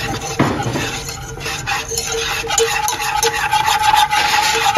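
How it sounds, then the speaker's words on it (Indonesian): Pudding mixture stirred in a pot as UHT full cream milk is poured in gradually, giving steady close scraping and clinking of a utensil against the pan with a constant liquid rustle throughout. "Ini dimasukkan secara bertahap supaya nggak bergumpal, sambil diaduk-aduk seperti ini terlebih dahulu."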